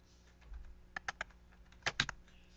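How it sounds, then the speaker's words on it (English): Keystrokes on a computer keyboard entering an IP address for a Wi-Fi Pineapple, a few close, quiet clicks in two short bursts over a low background hum. "we're going to type in the IP address of your Wi-Fi pineapple."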